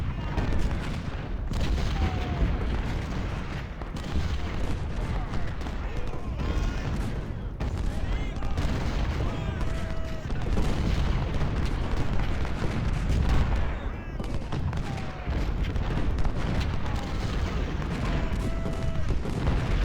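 Booming artillery fire rolls almost without pause across an American Civil War battle in a video game, dense overlapping cannon blasts and volleys that stay loud and close throughout.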